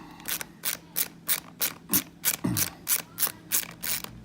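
A ratchet wrench steadily undoing the bolts of a motorcycle clutch case brace, with a fast, even train of close, crisp clicks and a couple of heavier metallic clunks partway through.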